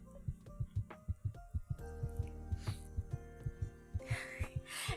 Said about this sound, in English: The heartbeat sound effects really is something, you know?